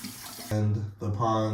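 Tap water runs into a bathroom sink during face washing, a steady close splash that starts abruptly and swells, with a brief dip before flowing again.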